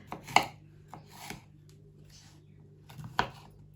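A knife chops red bell peppers on a cutting board in sparse, sharp knocks, a few cuts spaced apart with a quiet hum between them.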